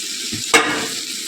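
Spice paste that has released its oil, sizzling in a pan with fried potatoes and meat, a spoon scraping and stirring once amid a steady close hiss.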